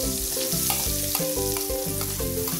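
Butter sizzles and fries steadily in cooking oil in a pan, a continuous close crackling hiss with a low tonal hum running underneath, no voices present.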